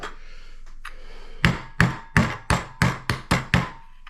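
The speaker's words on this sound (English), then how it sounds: "You saw we just give it a few gentle taps." A hammer gently taps scrap metal flat on a hard surface for a homemade alcohol stove. There are about eight crisp, evenly spaced knocks after a couple of faint early taps, close and clear, with no talking.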